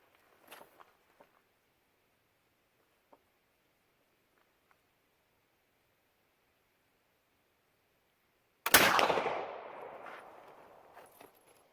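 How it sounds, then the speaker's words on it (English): A muzzle-loading flintlock rifle fires one sharp, loud shot after a long stretch of near silence broken only by faint clicks and handling sounds, and the report rings out and decays over the following seconds. "Pull it to full cock, and you're ready to shoot."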